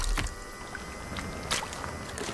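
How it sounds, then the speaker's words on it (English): Splashing and sloshing water in the survival video game Sons of the Forest, heard while driving a vehicle, with irregular gurgling bursts over a steady rushing background. "Why do I hear water?"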